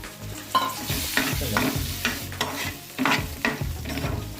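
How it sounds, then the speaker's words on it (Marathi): Chopped tomatoes and onions sizzle in a pan on low gas while a spoon stirs them, with repeated scraping strokes over a continuous close fry and no voices. "हे सर्व ढवळत असताना गॅस स्लो ठेवा आपण यामध्ये दोन कटिंग केलेले टोमॅटो ॲड करा"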